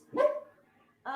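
A sleeping dog barks while dreaming: one close, muffled woof that trails into a soft whine, then another bark begins, with no talk over it.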